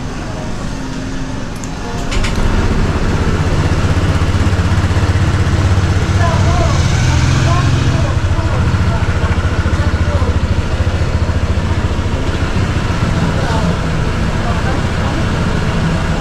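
A Honda Click 160 scooter fitted with 14T gearing starts up and runs steadily at close range, its engine droning with a loud, continuous idle and light mechanical clatter.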